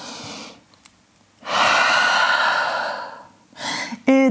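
A deep breath during the downward dog yoga pose: a long, loud, close exhale through the nose or mouth, then a shorter breath, with a brief voiced sound at the end.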